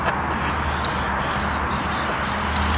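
A spray paint can hisses steadily and loudly at close range, laying down graffiti paint in one continuous burst with brief dips in the hiss.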